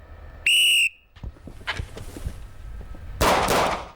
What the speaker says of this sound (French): Au coup de sifflet, vous déplacez à l'abri bas et vous commencez votre enchaînement.